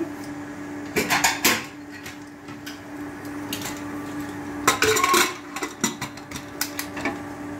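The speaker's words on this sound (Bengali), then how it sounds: "এবারে কুকারে মুখ আটকে দিচ্ছি" A pressure cooker holding vegetables, water and turmeric sits on a gas stove while its lid is fitted and locked shut. Sharp metallic clanks and rattles come in two clusters, with quieter taps between them.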